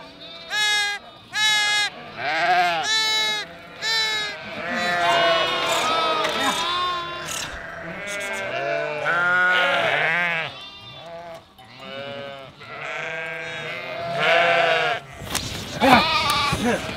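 Lambs on a winter migration journey bleat repeatedly, with many wavering, overlapping cries close by, some loud and others fainter, alongside low murmurs of a flock.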